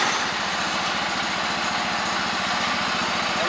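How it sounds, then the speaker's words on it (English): A Wheel Horse 310-8 garden tractor runs loud and close, its engine chugging steadily with a rhythmic flutter from the drive belt rubbing on its belt guide, with no talk over it. "That's just the belt rubbing on the belt guide."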